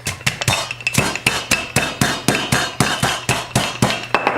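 A pork chop is pounded flat between parchment sheets with a rolling pin, about fourteen sharp, evenly spaced thuds landing in a steady rhythm close to the microphone, with no talking.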